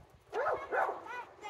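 A dog gives two loud, close barks in quick succession, followed by a softer whiny yelp, with faint room noise between them.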